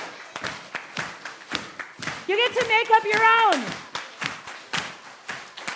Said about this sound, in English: Let me hear your clapping beat.